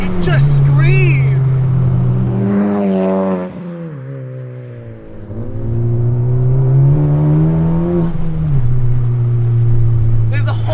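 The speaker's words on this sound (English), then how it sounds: "And then when you get on VTEC, it just screams." A 2021 Honda Civic Type R engine revving hard up through VTEC, a loud close droning scream that climbs, dips briefly and climbs again, heard from inside the car with little else over it.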